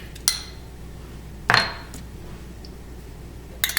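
Three separate clinks and scrapes sound as lemon juice, Dijon mustard and garlic are mixed in a bowl, short sharp hits of a utensil against the dish with quiet gaps between them.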